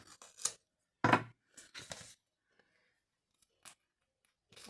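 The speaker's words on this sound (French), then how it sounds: "je coupe" Scissors snipping through paper or card while a gift box is made, a few crisp short cuts close by in a quiet room, followed by fainter scattered ticks.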